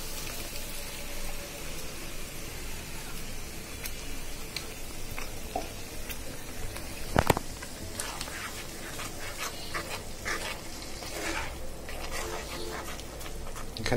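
A paste of boiled and blended ginger, garlic, tomato, dried red chili and green chili fries in hot oil in a wok over browned onions for crab bhuna, giving a steady, dense crackling sizzle with one sharp clink partway through.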